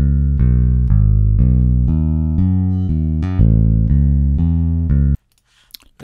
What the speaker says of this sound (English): a great plugin, which is, it sounds like a P bass.